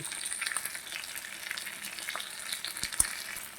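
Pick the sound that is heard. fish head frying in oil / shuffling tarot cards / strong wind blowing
fish head frying in oil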